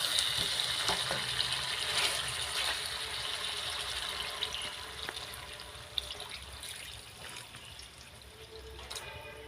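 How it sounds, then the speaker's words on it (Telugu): Water trickles and pours into a pot of village-style chicken curry, a soft continuous stream that gradually tapers, faint and close with no talk. "వాటర్ పోసేస్తున్నాను"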